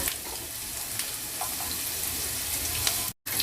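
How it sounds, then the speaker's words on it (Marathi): Chopped ginger and garlic frying in a couple of spoons of hot oil in a pan, giving a steady close sizzle with light crackling throughout and a brief break near the end. "त्यात मी 2 चमचे ऑइल टाकलेलं आहे आणि त्यावरच आपण बारीक केलेलं जे आलं आणि लसूण आहे ते टाकणार आहोत"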